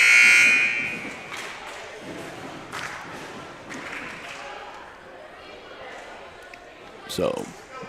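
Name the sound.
warning buzzer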